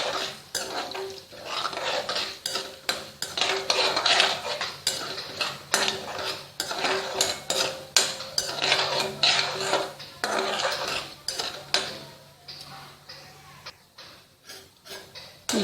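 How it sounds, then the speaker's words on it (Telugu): Coriander and cumin seeds dry-roasted in a pan, stirred with a utensil, giving a steady run of close metallic scrapes and clinks against the pan throughout, with no talking. "ధనియాలు జీలకర్ర కొద్దిగా మంచి స్మెల్ వచ్చే వరకు వేయించుకోవాలి."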